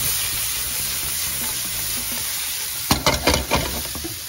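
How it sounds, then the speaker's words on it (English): Garlic hisses in a hot frying pan, a steady bright sizzle that is soon broken by a few sharp scrapes as it is stirred around, cooked for garlic butter prawns. "Garlic in. We'll give that a stir around."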